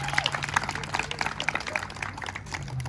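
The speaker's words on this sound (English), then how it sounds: "Let's give her another round of applause." An audience in a gym claps for a senior player at a girls' volleyball senior night, with scattered applause rising and falling over a few seconds and a low hum beneath.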